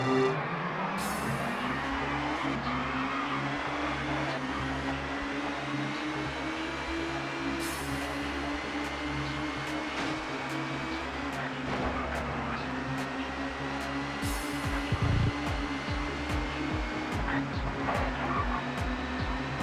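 Touring car engines whine in the PS1 video game TOCA Touring Car Championship at the Knockhill circuit, a steady high revving drone with rising gear pitches and occasional tyre squeal, while a commentator talks over it.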